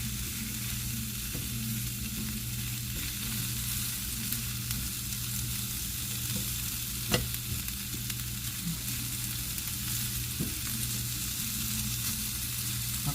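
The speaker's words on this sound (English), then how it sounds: "I'm going to let them cook on medium for about 3 minutes." Sausage and potatoes cook in a pan over medium heat, a steady bright sizzle and crackle running throughout, with occasional soft clinks and pops close by.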